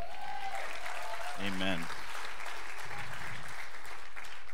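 Broad applause from a church congregation fills the background, with a voice speaking briefly over it.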